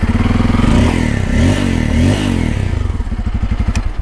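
A Bajaj Pulsar 250 motorcycle engine cranks and fires, revving up loudly a few times before settling into a rough, pulsing idle close by.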